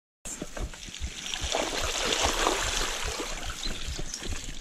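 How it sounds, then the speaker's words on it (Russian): Stream of water running below a muddy trail under a bicycle ride: a continuous rushing, trickling wash with scattered splashes and bumps, fairly close and steady, with no voices. "Блядь, внизу вода бежит."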